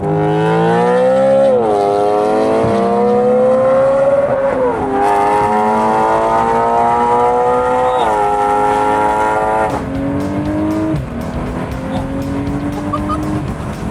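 A BMW with a DKG dual-clutch gearbox accelerates hard with one wheel spinning, its loud engine wail climbing through several quick gear changes, each marked by a brief drop in pitch.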